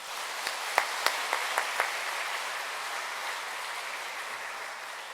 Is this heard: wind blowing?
no